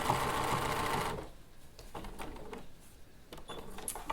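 A sewing machine over-stitching about an inch along a jeans hem, opening with a loud, fast, steady whirring run of the motor and then dropping to quieter intermittent clicks and mechanical taps.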